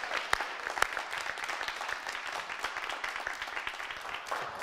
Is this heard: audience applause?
yes